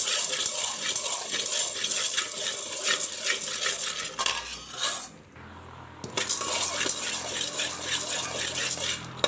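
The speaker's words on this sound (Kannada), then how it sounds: "ಕಡಲೆ ತಗೊಳ್ತಾ ಇದ್ದೀನಿ. ಇದು ಅಷ್ಟೇ ಚೆನ್ನಾಗಿ ಫ್ರೈ ಆಗಬೇಕು." Chickpeas dry-roasting in a pan for sesame laddu, stirred with a utensil, producing continuous close scraping and rattling clatter that pauses briefly midway before resuming.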